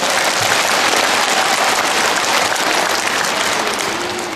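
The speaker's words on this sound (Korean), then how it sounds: "박수 한번 칩시다" Dense, loud applause from a church congregation at a Catholic priest's lecture during a diocesan Holy Spirit gathering, filling the space evenly and tapering slightly at the end.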